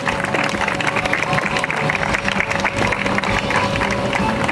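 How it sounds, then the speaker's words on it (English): An audience at a Disney Festival of Fantasy parade costume show applauds the Mermaid float cast, dense continuous clapping mixed with crowd murmur and a steady tonal hum underneath, loud and close. "So let's give a round of applause to our cast from Mermaid."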